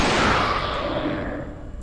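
A single loud shotgun blast with a long rolling decay, heard alone at close range in Alone in the Dark.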